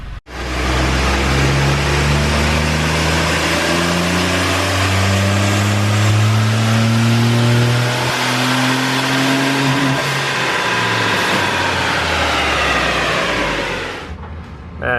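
A turbocharged 1-liter 3-cylinder Honda Insight engine revs loud and close, pitch climbing steadily for about ten seconds toward its limiter, then holding and dropping away near the end.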